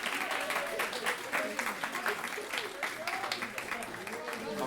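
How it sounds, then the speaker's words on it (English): Crowd applause at an end-of-internship celebration, continuous clapping from an audience with a voice talking over it, fairly steady and moderately loud. "Huntington Theater, clap it up for Eaton"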